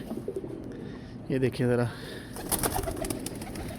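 Pigeons cooing in a loft, including a prized numbered racing bird and its young, with a couple of brief, close coos heard under a man's conversational speech.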